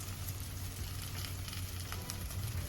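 Ribeye steaks searing on a grill set to medium heat, a continuous crackling sizzle with a low steady hum underneath, close and even throughout, with no voices.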